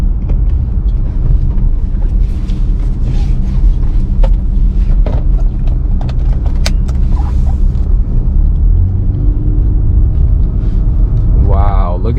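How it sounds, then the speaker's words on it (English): Steady low road rumble and engine drone heard from inside a 2017 Lexus RX 350 on the move, loud and continuous, with faint interior creaks and clicks and a brief mechanical whir near the end. "give you guys the POV point of view while we drive this beautiful 2017 Lexus RX 350"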